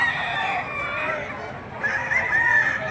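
Chickens squawk and crow in a continuous, fairly loud din at a market stall, the clucking and calls overlapping with no pauses.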